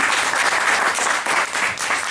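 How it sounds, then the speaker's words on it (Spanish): An audience in a pub gives a steady burst of applause, dense close clapping that keeps going at even strength the whole way through. "Ahora sí, un aplauso."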